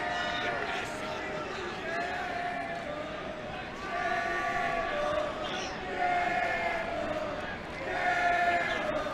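Dense crowd of spectators at a 2006 Cortland vs Salisbury lacrosse game, a steady roar of voices with rising swells of shouting throughout.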